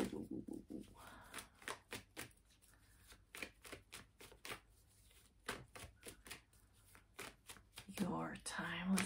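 Rapid bursts of tarot cards being shuffled, crisp riffling clicks repeating in quick runs, with a voice speaking briefly near the end.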